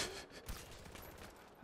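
Gunfire in the video game Far Cry 4, a quick burst of shots cracking within a second and a half, faint and short, with no talking.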